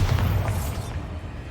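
Bombarda spell explosion in Hogwarts Legacy: a loud, deep boom right at the start that rumbles and decays within about a second, heard alone.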